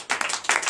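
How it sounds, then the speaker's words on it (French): Church congregation at a night deliverance and prophecy service in Comé, Benin, giving a brief burst of clapping, two or three loud, close surges of hands in under a second. "Donnez l'acclamation"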